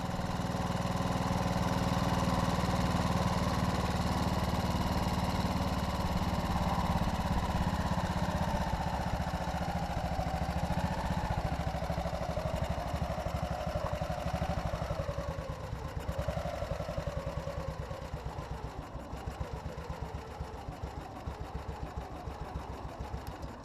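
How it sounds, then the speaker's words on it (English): The engine of a Panther motorcycle with sidecar idles steadily and close for a long stretch at the top of a steep incline, a low, even putter that softens slightly toward the end. "I'm surprised to find the engine still ticks over."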